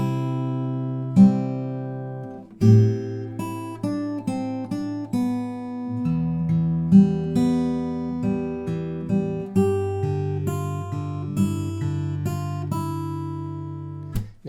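Fingerstyle guitar picks out the opening line of a song: a clear, close melody of plucked notes over ringing bass notes in a steady rhythm, with no voice.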